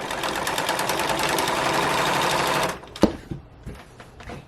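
A sewing machine runs in a fast, steady, even stitching rattle while sewing a gathered slipcover skirt, then stops abruptly, followed by a few close handling clunks and taps.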